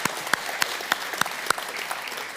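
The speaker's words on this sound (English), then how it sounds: "Let's give them a big round of applause." Audience applause at a product launch event, a steady wash of clapping with several sharper individual claps standing out, moderately loud with no talk over it.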